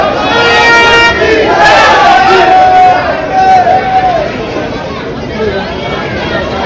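A dense crowd of pilgrims gathers on Guru Purnima, with loud continuous chatter and babble from many voices close by and a faint horn-like toot in the mix.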